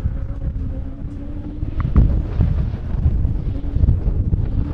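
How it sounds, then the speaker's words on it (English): Strong wind buffets the microphone outdoors at an off-road race track, a continuous rumbling roar with gusty swells and a faint engine drone underneath, no voices. "The wind is still staying strong out here, keeping things interesting."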